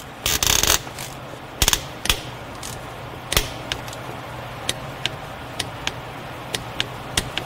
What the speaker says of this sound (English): So now we're gonna torque this one here.